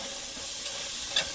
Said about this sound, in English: Now the cumin can start getting hot in the oil with the onions to give it more flavor.